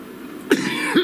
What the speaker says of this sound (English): When I start to cough in a reading